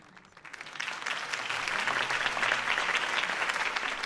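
Applause from a crowd in a Batman video game swells quickly and holds steady as a dense wash of clapping, with no talking over it.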